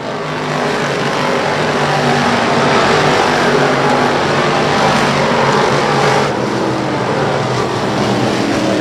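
Race cars roaring around an oval track, a dense sustained engine howl that swells to a peak in the middle and then eases off slightly, loud and continuous.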